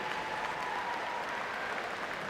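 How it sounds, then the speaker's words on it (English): Spectators at the YMCA National Long Course Swimming Championship in Ocala, Florida applaud swimmer Casey Freeman, a steady, even patter of many hands heard from a distance in an indoor pool hall. "another big round of applause for Casey Freeman"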